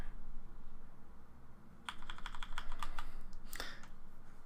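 After a quiet stretch, a flurry of loud, close keystrokes breaks out on a computer keyboard, ending in a heavier cluster of clacks, with no voices.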